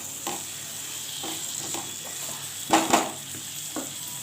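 Potatoes frying in a wok for vegetarian ghugni are stirred with a spatula in several scraping strokes over a steady sizzle, with a louder clatter of strokes in the middle.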